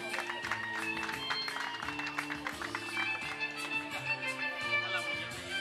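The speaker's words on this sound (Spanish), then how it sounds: "pido otro fuerte aplauso también, por favor" Applause at a quinceañera: a dense wash of clapping from the guests mixed with loud tonal music playing throughout, steady in level with no clear break.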